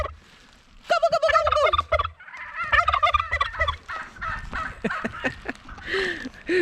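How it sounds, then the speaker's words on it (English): Several turkeys gobbling close by on a farm ahead of a winter storm, loud overlapping rattling gobbles in repeated bursts with no talk. "Gobble, gobble, gobble, gobble."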